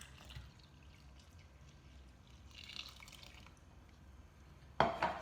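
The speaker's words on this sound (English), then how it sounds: "let's pour in our warm milk." Warm milk is poured into a well of flour with a cracked egg for pan de coco dough, a faint soft trickle that swells into a louder, closer splash near the end.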